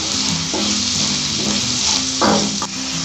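Pav bhaji masala and spices sizzle steadily with vegetables in a hot pan while a utensil scrapes and stirs, with a few louder clanks of metal against the pan.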